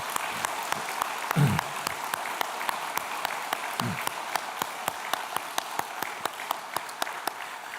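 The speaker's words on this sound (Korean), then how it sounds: "우리 다시 한번 박수해 드리도록 하겠습니다" Audience applause in a church during a special dawn prayer service, a steady, moderately loud wash of many hands clapping for several seconds with sharp individual claps standing out.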